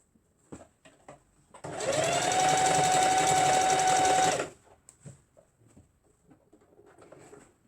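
Sewing machine stitching fabric together for short pants, a loud steady whirring run of about three seconds in a quiet room, with soft handling noises before and after.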